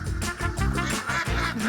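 A flock of laying ducks quacks nearly nonstop in a dense, overlapping chorus, close and fairly loud, with no talking.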